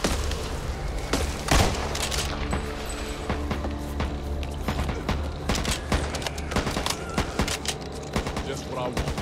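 Assault rifle fire in the video game Back 4 Blood: rapid sharp shots and scattered bursts over a steady noisy backdrop, with talk mixed in.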